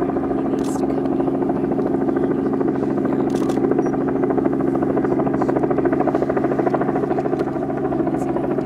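A FedEx Boeing 727 jet landing at Merrill Field, heard as a loud, steady engine drone with a buzzing tonal hum that holds evenly throughout.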